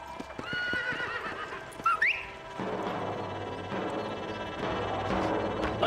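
A horse in the Red Dead Redemption video game gives a short high whinny after some close clip-clopping hooves and a whistle, then a softer continuing rumble of movement fills the rest.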